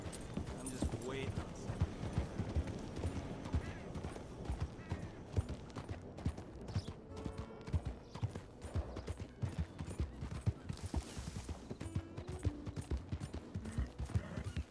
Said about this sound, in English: pues está aquí mi caballo